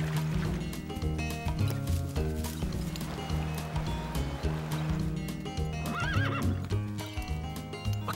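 Hooves clop along while a horse neighs briefly, set against a steady, full backdrop of music and ambient noise.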